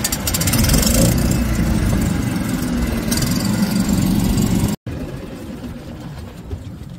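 Small fishing boat engine idling loud and steady with a rough mechanical rattle, then abruptly cutting out to near silence as it stalls.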